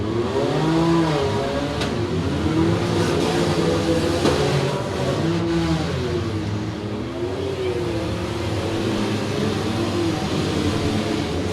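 Demolition derby cars at a county fair, engines revving and droning together in a steady roar, with a few sharp knocks of impact over the din and no voices.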